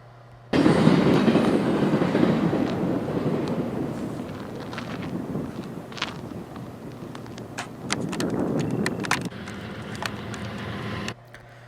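A freight train pulls away, a heavy broadband rumble with wheel and rail noise that starts abruptly and holds steady for about ten seconds, with scattered squeals and clanks near the end before it cuts off.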